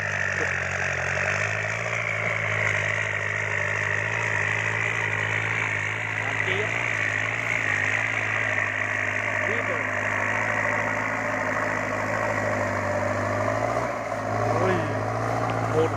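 Engine held at a steady high drone with the accelerator pressed down continuously, a constant loud hum with little change in pitch, faint voices now and then in the background.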